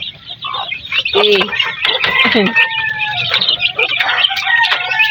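Hens and chicks cluck and cheep busily in a farmyard, a dense overlapping chorus of high peeps and lower clucks close by, with a brief spoken word among them.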